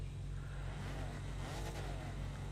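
Turbocharged car engine in The Crew 2 racing game, a steady loud drone with a low rumbling tone, whooshing turbo hiss and rising whine partway through, with no talk.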